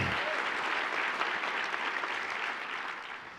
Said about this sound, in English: Would you give Ted a round of applause?